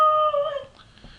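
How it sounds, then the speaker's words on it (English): A dog whines to be let outside, giving one drawn-out, high, tonal whimper that wavers and trails off after a fraction of a second. "That's my dog wants to go out"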